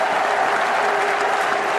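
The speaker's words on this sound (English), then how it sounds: "Gets the full applause of the crowd all round" A cricket crowd at Canterbury applauds a Bangladesh batsman during a one-day match against Australia, steady, dense clapping from a large stadium audience with no pauses.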